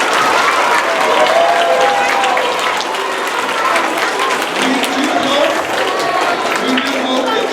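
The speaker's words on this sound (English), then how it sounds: "could you please give my investors a round of applause?" An audience of elementary school children and adults applauds after a 4-H ambassador presentation, dense loud clapping that stays steady for several seconds with a few voices mixed in.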